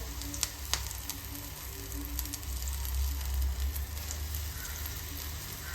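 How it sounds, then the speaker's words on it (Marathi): Curry leaves coated in gram-flour batter fry in hot oil as crispy bhaji, giving a low, steady bubbling sizzle with a few sharp crackles near the start. "आता इथे बाकीची जी कढीपत्त्याची जी पानं आहेत ती सुद्धा आता आपण इथे पिठामध्ये बुडून तेलामध्ये सोडून देणार आहोत"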